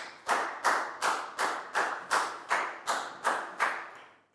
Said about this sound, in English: High five and a big round of applause for Pacmung, please, guys.